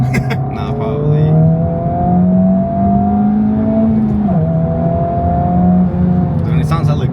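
A Honda Type R with a stock intake and VTEC revs steadily from inside the cabin, its engine tone rising and dipping in a smooth sustained drone while people talk over it.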